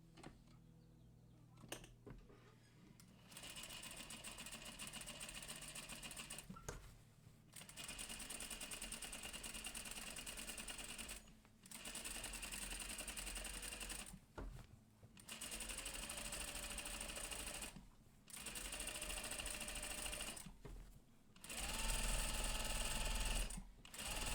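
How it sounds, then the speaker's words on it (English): A sewing machine runs a long gathering stitch in black thread, whirring in about half a dozen steady bursts separated by brief pauses, close and clear. "I aim for 3/8 of an inch when I do the gathering stitch"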